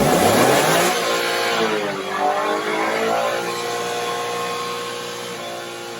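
A car engine revs through its stock factory muffler exhaust, a loud close rise and fall in pitch settling into a steady idle drone, with no voices.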